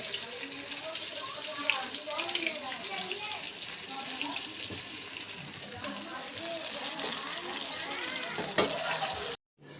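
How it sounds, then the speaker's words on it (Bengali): Fish chops frying in oil, a continuous bubbling sizzle heard under nearby voices, ending abruptly. "আমাদের কলি চপ ভাজছে"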